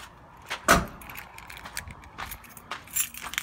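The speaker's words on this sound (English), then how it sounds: "Next, grab your keys." A set of truck keys jangles close by, with a few sharp metallic clinks and rattles scattered over a few seconds in a quiet setting.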